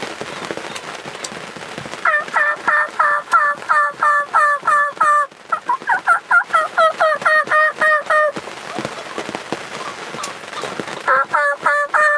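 A wild turkey gobbles loudly near its roost on a Kansas morning, repeated rattling gobbles in close bursts with brief pauses, heard alone in the open air.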